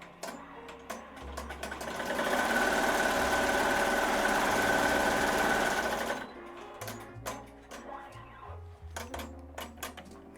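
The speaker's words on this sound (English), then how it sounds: "So let me do the placement stitches so that I can get an idea of how much fabric I need." An embroidery machine runs steadily for about four seconds while sewing placement stitches for fabric applique, then stops, leaving faint clicks and handling noises afterward.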